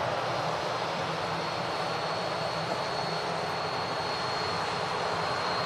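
An aircraft at Manchester Airport produces a steady, loud engine roar that holds constant for several seconds without letting up.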